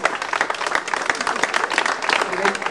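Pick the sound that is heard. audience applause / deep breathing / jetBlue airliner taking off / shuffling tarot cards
audience applause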